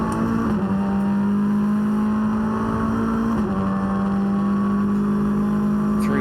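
TCR touring race cars at the Nürburgring, a loud sustained engine howl holding a steady pitch with a brief dip as cars go through a turn, continuous and close.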